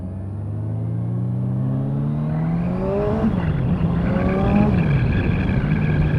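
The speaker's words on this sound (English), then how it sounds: "That is a really good induction sound." A 2015 Kawasaki Ninja 1000 engine sings with a rising induction roar while accelerating, its pitch climbing through gear changes, loud and continuous with wind rush and no talk.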